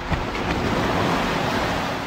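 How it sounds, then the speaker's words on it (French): Waves wash onto a beach lined with moored pirogues while a fresh wind blows across the microphone, a dense, steady roar with no voices. "une plage ornée de pirogues stationnées et caressée par un vent frais"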